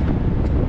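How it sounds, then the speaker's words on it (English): Loud, rough rumble of strong wind buffeting a microphone outdoors during a long run, a continuous low roar filling the short moment. "it's windy as frick"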